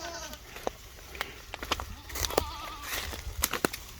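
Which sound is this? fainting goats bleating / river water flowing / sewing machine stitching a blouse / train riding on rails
fainting goats bleating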